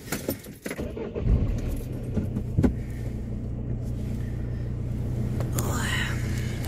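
Keys jangle briefly and close by inside a car on an icy day, the metallic rattle sitting over a steady low engine rumble with some breathing and faint voice sounds.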